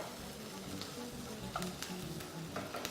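Onions fry in a pan beside sausages, a steady soft sizzle running throughout while a utensil stirs them, giving a few light scrapes and clicks against the pan.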